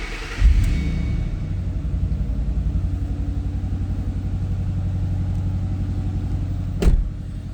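2009 Ford Mustang Bullitt V8 cranks and fires with a loud burst, then settles into a steady, throbbing idle rumble, with a sharp click near the end.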